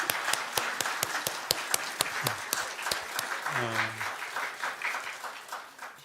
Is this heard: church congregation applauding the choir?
yes